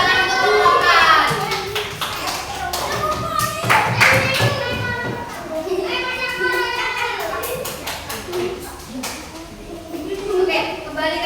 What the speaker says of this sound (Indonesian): Beri tepuk tangan untuk rombongan.